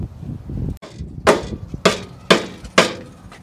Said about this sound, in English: Larry is removing the spot welds on the mounts